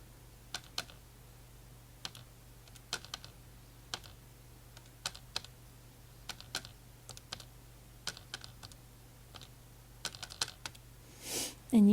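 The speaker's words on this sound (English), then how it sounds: "And now let's just type that in." Numbers being keyed into a calculator-style computer keyboard during a vector math problem: scattered sharp key clicks in short bursts over a steady low hum, fairly faint and close, with a louder bump at the end.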